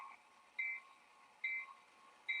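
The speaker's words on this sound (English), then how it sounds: "A little bell just to make sure everybody knows we're coming." Locomotive bell on a BN SW 1200 switcher working a rail yard, giving three evenly spaced metallic clangs with a bright ringing tone, faint and moderately distant over a quiet background.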